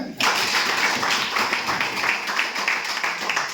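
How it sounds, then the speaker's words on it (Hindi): Audience clapping at a Hindi-language motivational program, a steady, loud patter of many hands that starts abruptly and continues evenly for a few seconds. "एक बार ताली बजा दो।"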